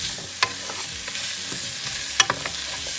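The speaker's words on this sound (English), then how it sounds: "We need to saute the onions thoroughly." Onions sauté in pearl oil in a pan for a chicken curry, giving a steady close sizzle broken by a few sharp scraping clicks of stirring.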